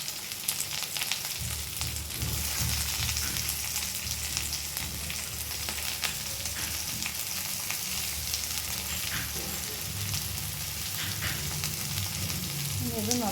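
Fennel seeds, curry leaves, green chilli, onion, ginger and garlic frying in hot oil for kadala curry, a loud continuous sizzle with occasional scraping stirs of a spoon, close by and unbroken throughout.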